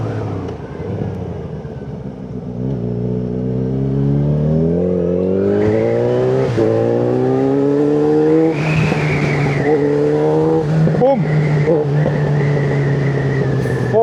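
A Yamaha XJ6N motorcycle engine revs up repeatedly, pitch climbing in rising sweeps and dropping back, close and aggressive through a raspy exhaust.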